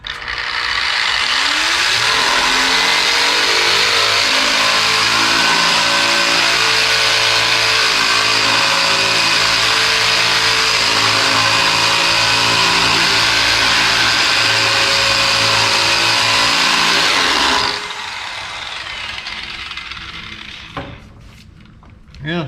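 A Bauer 9 amp surface conditioning tool, model 20104E-B, running wide open with a loud, steady high-speed motor whine and grinding buzz for about eighteen seconds before winding down, followed by a few handling clicks and faint speech.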